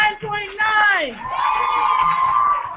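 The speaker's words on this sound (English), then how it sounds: "Now keep that applause going for our next call from Ralston." A crowd at a teen poetry slam tournament semifinal cheers and whoops loudly, high voices rising then settling into sustained shouting and applause.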